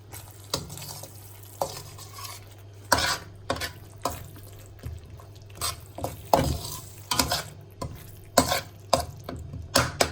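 Masala spices fry in oil in a pan for a dhaba-style urad dal tadka, with a low steady sizzle under repeated sharp scrapes and clinks of a spoon stirring against the pan.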